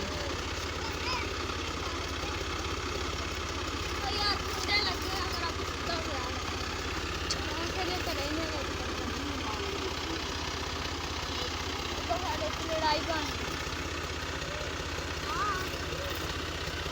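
A tractor engine runs at a steady idle-like throb, a constant low rumble that persists throughout with faint indistinct voices over it.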